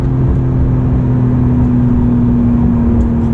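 A tuned Porsche 911 Carrera T pulls hard in third gear, its engine droning loud and steady with a strong sustained tone from start to finish, heard close from inside the car.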